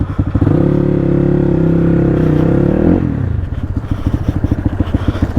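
Honda CX300C motorcycle with its dB killer removed, engine held at a loud sustained rev for about three seconds, then dropping to a choppy, pulsing idle with a raw exhaust burble.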